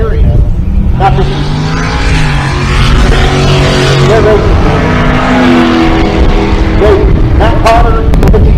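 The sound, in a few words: drag racing cars launching, Pontiac GTO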